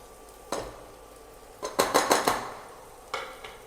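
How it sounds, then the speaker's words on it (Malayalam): A spoon stirring soya chunks curry with ground spice powder in a pan, sharp metallic scrapes and clinks: one knock, then a quick run of five taps, then a single late clink, with no talk. "എന്നിട്ട് നല്ല മിക്സ് ചെയ്ത് കൊടുക്കാം"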